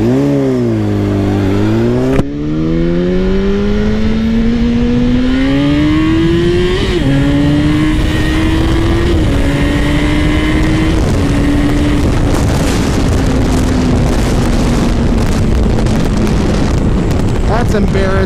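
A car accelerates hard against a Yamaha R1 motorcycle, its engine note climbing steadily through rising harmonics for most of the clip, loud and close, with the pitch sweeping up between shifts.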